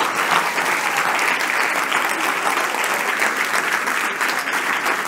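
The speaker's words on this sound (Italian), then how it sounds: "Applauso." Steady, dense applause from a seated audience at a talk on words as a driver of change, loud and sustained throughout with no voices over it.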